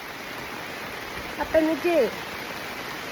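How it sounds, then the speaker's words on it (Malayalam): Heavy rain falls in a steady, broadband wash around a person out shopping, with a short burst of nearby talk partway through. "എന്താ മഴ"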